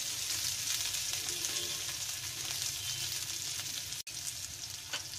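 Onions and green chillies fry in a pan with a dense, steady sizzle close by, with a brief gap near the end and a faint stir afterward.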